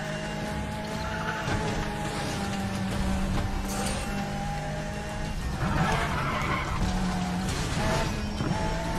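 A Porsche Carrera in a racing video game is driven off-road, its engine droning steadily with tonal whine and scattered gravelly scrapes and bumps throughout.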